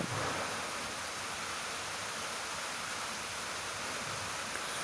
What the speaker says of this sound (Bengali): বৃষ্টির আওয়াজ আসতে পারে কিছু মনে করবেন না